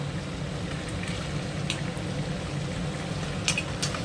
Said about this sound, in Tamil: மீன் நல்லா ஃப்ரை ஆகிட்டுருக்கு